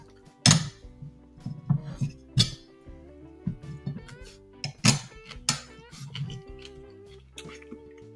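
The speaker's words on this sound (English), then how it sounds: "I got the frying pan out." A frying pan is handled at the stove while making breakfast: scattered metallic clinks and knocks, a few loud clanks among softer rattles, with someone talking in between.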